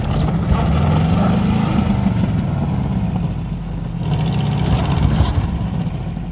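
A 1986 Subaru Brat engine revs and strains on loose rocks off road, a steady low rumble swelling and dipping, close by, with some clatter over the top.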